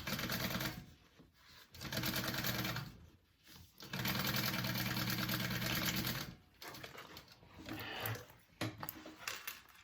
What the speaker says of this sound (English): Go ahead and sew that together.